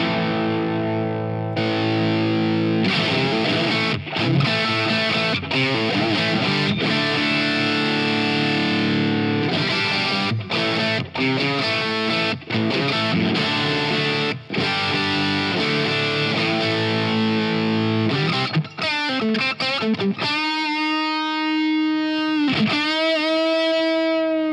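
Electric guitar with a Strat pickup played through an old Japanese-made Boss DS-1 distortion pedal, sustained chords and riffs ringing out for a long stretch, ending on a wavering, vibrato-laden note.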